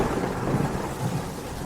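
Thunder rumbles low and steady throughout, a continuous deep roll with faint rain texture above it and no voices.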